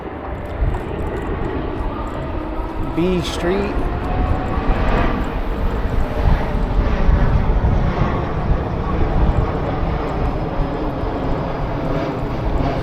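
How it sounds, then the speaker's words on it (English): A jet airplane passes overhead on a street in downtown Tustin, a broad, steady roar that holds for the whole stretch, with a person talking over it. "Got a jet flying over."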